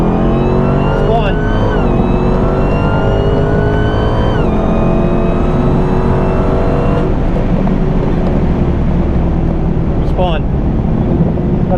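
A drag car launches at the track, tires spinning as the engine screams and climbs in pitch, then fades off down the strip, loud and steady throughout.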